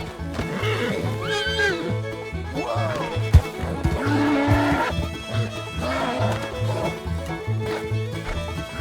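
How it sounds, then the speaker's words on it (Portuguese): A mare in the Red Dead western video game neighs with several rising, wavering whinnies, set against game ambience with rhythmic hoof-like thuds and a sharp knock midway. "Para minha sorte, é uma égua linda, mas ela é muito arisca."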